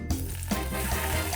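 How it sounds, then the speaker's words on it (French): Boiling oil poured over soy sauce and oyster sauce sizzles loudly and steadily, a dense close crackle with a couple of sharper pops near the start. "Maintenant, je viens verser de l'huile bouillante par-dessus tout ça."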